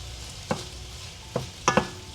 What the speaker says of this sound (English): We have a little bit of marinated sauce that we can add onto the meat.